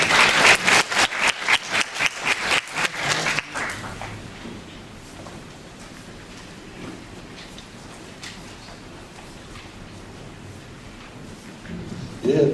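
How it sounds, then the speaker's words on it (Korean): Applause from a forum audience on architecture and urban planning welcomes the keynote speaker: a brisk run of distinct, rhythmic claps for about three seconds, then fading into a quiet, faintly murmuring hall. "예빈 여러분께서는 박수로 맞이해 주시기 바랍니다."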